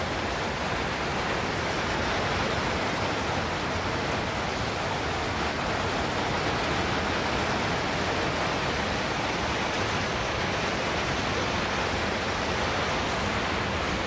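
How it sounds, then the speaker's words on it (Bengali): Heavy rain pours down steadily over a village, a dense, continuous hiss that stays loud and unbroken from start to finish with no voices. "খুব সুন্দর বৃষ্টি হইল"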